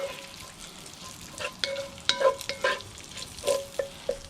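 Bacon renders in a pan over lump charcoal, a soft steady sizzle broken by several sharp utensil clinks and stirring scrapes, heard close with no speech.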